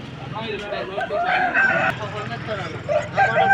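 A rooster crows among fowl at a Vijayawada rooster market, with clucking and other birds nearby and people talking over the busy scene.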